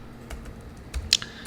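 Soft, sparse keystrokes tap on a computer keyboard, a few scattered clicks close by and quiet, with no talking.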